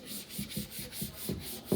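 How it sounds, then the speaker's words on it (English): Palms rub a sheet flat on a bench in soft, close, rhythmic strokes, about six passes in under two seconds. "I am going to first take my hands and just kind of flatten it"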